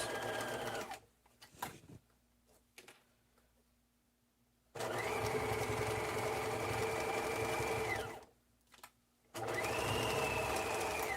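A sewing machine stitches slowly through thick layers of a satchel strap in bursts: short stops and starts, then two longer whirring runs separated by a pause, close and clear.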